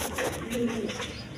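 Caged three-striped red pigeons give soft, low cooing calls, a few murmuring coos close by over a steady background hum, with no talking.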